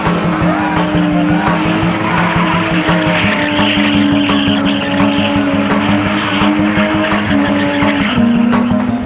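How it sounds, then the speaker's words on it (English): A BMW E30 spinning in a drift with a loud, steady engine drone and continuous tire squeal and skidding, heard up close throughout with no pauses. "a car that's been driven and spun by a 15-year-old"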